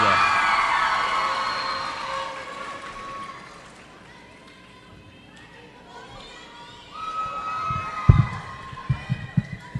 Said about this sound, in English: next up, a round of applause for Naomi Alvarez.